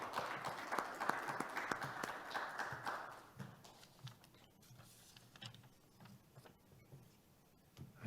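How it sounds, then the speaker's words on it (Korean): Welcoming applause from an academic conference audience greets a keynote professor, a moderate burst of clapping that fades after about three seconds into scattered faint claps and room noise. "여러분 환영의 박수로 맞아주시기 바랍니다"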